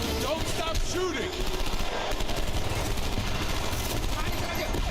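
Video game gunfire rattles in dense, continuous automatic bursts alongside booming explosions, loud and close throughout, with players talking over the shooting.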